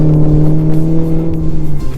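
Maserati GranTurismo engine revving under a light throttle tap, a loud close-up rumbling drone with deep steady harmonics that drops in pitch near the end.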